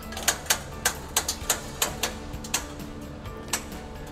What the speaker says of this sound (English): rotating the wrench, you can take the slack out of the belt.